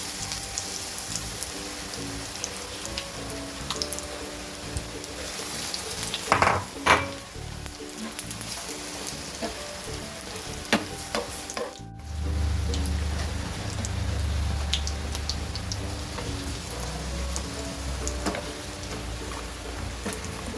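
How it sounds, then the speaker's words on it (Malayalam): Steady rain hiss with gusty wind rumbling low, continuous throughout; a couple of brief clatters midway, no voices. "വെളിയിൽ നല്ല കാറ്റും മഴയുമാണ്"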